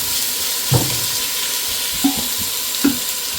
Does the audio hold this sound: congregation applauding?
no